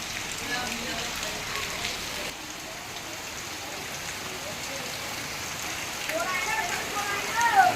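Heavy rain pours down in a continuous, even hiss, close by and fairly soft, swelling slightly toward the end.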